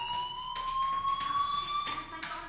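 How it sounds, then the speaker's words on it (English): School fire alarm in Life is Strange, a loud, sustained electronic tone with pulsing bursts, ringing steadily and close by. "Hey, do you hear that fire alarm?"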